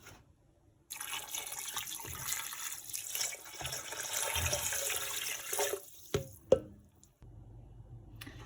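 Water pours steadily into a pot for several seconds, a continuous splashing stream that ends with a couple of clunks, then quiet.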